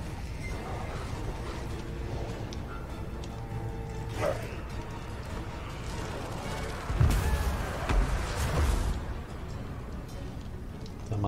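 Dogs barking and yipping amid a battle in the strategy game Total War: Warhammer 2, with intermittent barks over a steady din of combat, clashing and distant artillery-like booms, louder toward the end.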